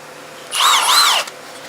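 A Milwaukee M18 cordless impact wrench runs briefly against a wheel nut, one loud close whirring burst of under a second that rises and falls in pitch, with no speech.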